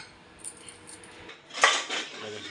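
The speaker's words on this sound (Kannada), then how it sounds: "ಮುಚ್ಚಳ ಕವರ್ ಮಾಡ್ತಾಯಿದ್ದೀವಿ" A metal lid is set onto a pot of mutton sambar in a home kitchen, producing a short clattering clink and scrape of metal on metal after a few faint handling sounds.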